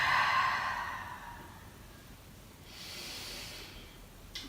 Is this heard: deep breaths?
yes